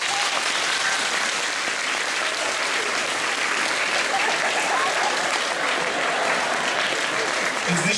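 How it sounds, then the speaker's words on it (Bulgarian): Loud, sustained applause from a theatre crowd at a ballet anniversary gala, a dense unbroken wash of clapping with a faint murmur of voices in the mix. "нека сега да ги изпратим с аплодисменти"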